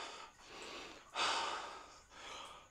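A storyteller's voice imitates a tortoise panting, giving soft, breathy huffs in a slow uneven rhythm, with one stronger gasp in the middle, close and fairly quiet.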